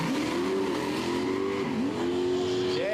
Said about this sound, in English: Packing a couple of turbos on board the Fastback.